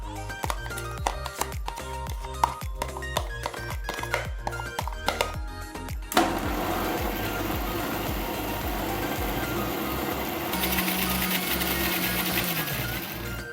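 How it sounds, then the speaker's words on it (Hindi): An electric blender purees mango for homemade ice cream, starting with a loud continuous whirring drone after some clattering and handling noises, with the motor pitch shifting partway through. "फिर उसको हम ब्लेंड करेंगे।"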